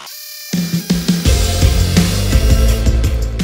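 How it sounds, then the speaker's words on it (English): A hammer drill on hammer action bores into a brick wall, starting abruptly after a brief silence and then grinding and rattling loudly and continuously at close range. "We obviously want our drill on hammer action"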